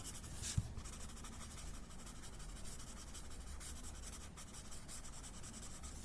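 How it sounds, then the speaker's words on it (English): A pencil drawing being lightly blended and softened on paper, a quiet continuous rubbing and scratching with one small tap near the start, close and faint with no talk. "We don't want to blend it much, just soften the pencil."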